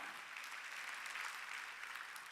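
A church congregation applauds together during a Sunday worship service, a soft, even wash of clapping that continues throughout without a break, heard faintly and from a distance.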